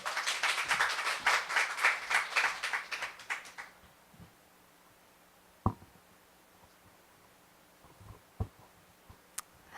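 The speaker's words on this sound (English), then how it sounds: "So give her a big round of applause." Audience at a literary workshop claps in a lively burst of applause for several seconds that fades out, leaving a quiet room with a few isolated knocks and taps.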